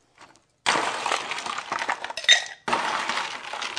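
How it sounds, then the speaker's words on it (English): Ice cubes tumble into a metal cocktail shaker for a whiskey eggnog, a loud close clatter and rattle lasting a couple of seconds, a brief pause with a sharp clink, then another burst of rattling ice. "Gonna put some ice in our shaker"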